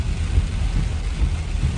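A brief burst of heavy rain pounding on a car in the Blue Mountains, Australia, a dense continuous roar with low rumbling underneath.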